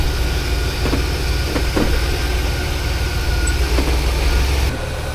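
A Chevrolet Express van with a freshly replaced transmission idles steadily at close range, a constant low engine drone with faint rhythmic ticking and no voices.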